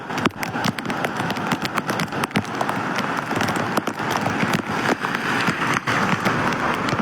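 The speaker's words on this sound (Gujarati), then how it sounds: "ધોધમાર વરસાદ પીડો લાગે ભાઈ ઉપરમાં" A heavy downpour roars loudly and roughly, with gusty surges and frequent sharp clattering hits over a dense wash of falling water, no talking heard.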